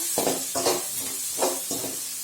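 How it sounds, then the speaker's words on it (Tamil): Onions with a pinch of salt sautéing in a pan for mutton rava upma, with four bursts of stirring and scraping over a steady sizzle. "வெங்காயம் நல்லா வதங்கணும்."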